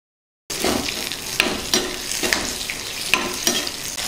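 Onion pieces and curry leaves sizzle in hot oil in a pan for mango dal, a steady crackling frying sound broken by several distinct stirring scrapes.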